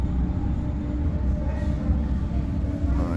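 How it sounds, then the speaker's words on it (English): A low, steady rumble of a train rolling past at moderate distance, continuous for the whole stretch with no voices. "The train's going by right now."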